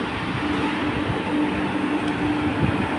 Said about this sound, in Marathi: असं मी आता ब्रिजवरनं वंदे भारतला बघतोय